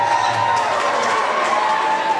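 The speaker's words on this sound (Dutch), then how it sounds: "Ja, applaus." A school end-of-year celebration crowd at a Vossius Gymnasium event bursts into loud, dense cheering and clapping that stays steady throughout.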